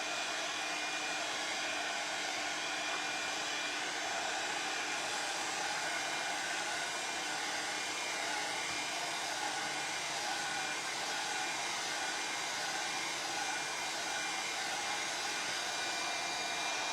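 A hair dryer drying paint on a DAS clay and wood heart craft, blowing as a loud, steady, close whoosh that runs unbroken throughout with no talk.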